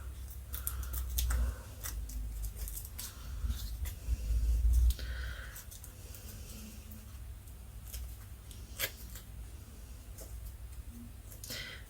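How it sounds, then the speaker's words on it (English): Sticky craft material is torn off by hand at a craft table: a close run of crackly, papery rips and rustles in uneven bursts, with a soft low rumble beneath and no talking. "that's now sticking to me and I'm tearing it. That's okay, let's just tear it off."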